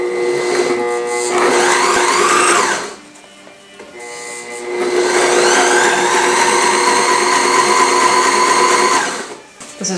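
A brand-new sewing machine runs fast while stitching a fabric cover, whirring loudly and close in two long bursts separated by a short pause, with no voices.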